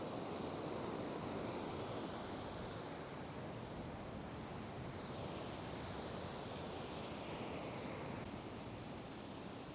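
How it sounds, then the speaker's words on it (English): Large ocean waves breaking and washing onto the shore in the surf zone where someone is fishing, a loud, steady roar of surf that fills the whole stretch with no voices. "These bigger waves are causing me a few problems."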